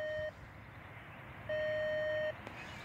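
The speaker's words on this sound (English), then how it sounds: "So I think you can hear the beeps." Steady electronic beeps from a 2 meter radio receiver picking up a transmitter, one tone near the start and a longer one later, heard alone over a faint hiss.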